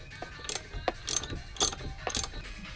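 A hand ratchet tightens a spark plug back into a Lexmoto FMR 50cc four-stroke moped scooter, giving several short bursts of quick pawl clicking separated by pauses, close and clear over faint background noise.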